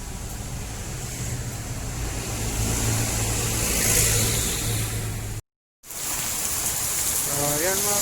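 Road traffic at a stoplight: a steady, broad roar of passing vehicles and engine rumble close by, continuous through most of the stretch with a brief cut, then resuming.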